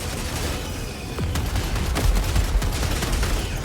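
An automated sentry gun in the shooter game Helldivers 2 fires rapid bursts against an Automaton invasion, loud and close, with booming impacts and a layered barrage of gunfire throughout.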